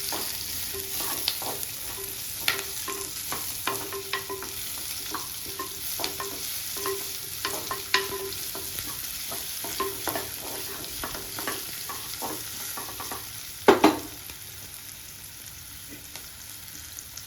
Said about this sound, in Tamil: இப்படி போட்டு எண்ணெயில் வதக்கி விடுங்க.